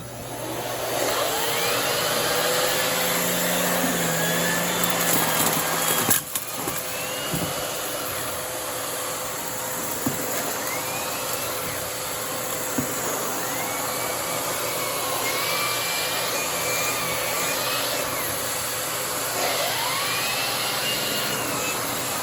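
A Miele vacuum cleaner runs on max mode, a loud steady high-pitched motor whine and airflow roar that stays constant from start to finish, with a brief bump and thud partway through.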